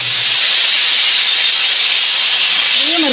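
Pressure cooker on the stove cooking dal, releasing a loud, steady hiss of steam throughout, with a faint tonal whistle rising near the end.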